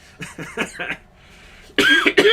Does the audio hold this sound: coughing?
yes